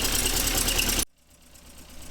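A Triumph car engine on full choke revs loudly for about a second, then cuts off abruptly to near silence.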